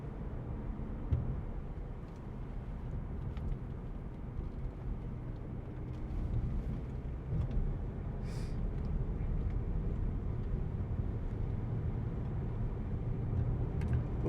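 A 2017 Audi A6 saloon with a 2.0 TDI ultra diesel and S Tronic gearbox climbs a hill, its engine a faint, low, steady hum from inside the cabin that swells slightly as it pulls.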